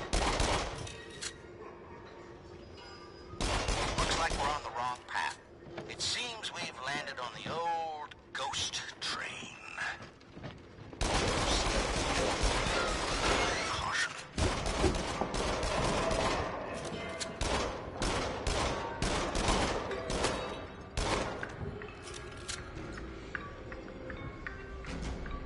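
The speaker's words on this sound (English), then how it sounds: "Got actual guns now." Guns firing in the shooting game Until Dawn: Rush of Blood, loud rapid bursts and repeated shots across most of the stretch, mixed with game music and effects, with a voice talking at points.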